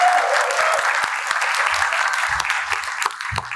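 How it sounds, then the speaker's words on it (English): An audience applauds a speaker at the Design Disco talk event: sustained, fairly loud clapping that fades slightly toward the end, with a few low thumps from the room mixed in. "So give a big round of applause to Shashank Shrestha."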